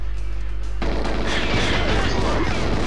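Heavy gunfire from the GoldenEye 007 video game, loud booming shots bursting in rapid succession after a brief lull and continuing densely to the end.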